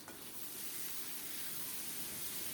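Ground onion-garlic paste dropped into hot oil hisses loudly right away, a bright, steady sizzle that swells after a sharp start and stays dense and close throughout.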